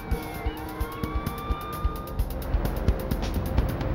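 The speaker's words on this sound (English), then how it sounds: "Only the sound of approaching sirens prevented the young woman from being seriously hurt." Police sirens wail and sweep in pitch over a rumble of road traffic, with sharp clicks and knocks scattered throughout.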